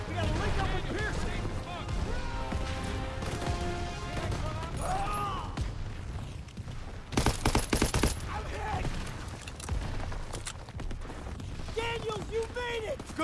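Machine gun fire in the video game Call of Duty WWII: sustained battle noise with a dense, rapid burst of automatic fire near the middle, under shouting soldiers' voices and continuous combat rumble.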